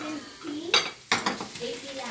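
Garlic in hot oil gives a short crackling sizzle, and two sharp bursts from the utensil or pan break in over about two seconds, close by.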